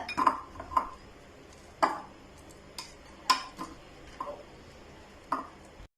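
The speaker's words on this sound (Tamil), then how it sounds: "இப்படி நல்லா மிக்ஸ் பண்ணிக்கோங்க" A carrot and flattened rice laddu mixture is mixed in a bowl, and a spoon knocks against it in sparse, separate clinks and taps, quiet and spaced over a few seconds.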